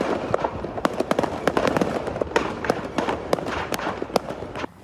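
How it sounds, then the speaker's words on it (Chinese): Firecrackers stored in a burning joss paper factory in Jiaoxi, Yilan, going off in a rapid, irregular string of sharp cracks and pops, some close and loud, others fainter, over a dense rumbling background. "还佫听到炮啊爆炸的声音"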